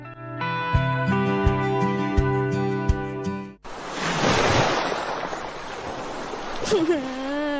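Ocean waves wash onto a beach in a steady broadband rush, arriving suddenly after a stretch of music and holding close and loud to the end.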